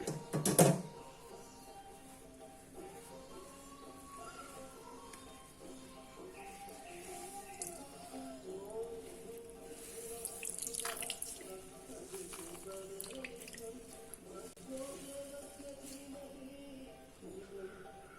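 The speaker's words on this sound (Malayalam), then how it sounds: "പിഴിഞ്ഞ് വെള്ളം മുഴുവൻ കളയണം." Water runs and trickles steadily with a wet, splashy texture, a brief louder splash at the start, then continuous dripping and pouring close by, as water is wrung out of grated potato in a cloth.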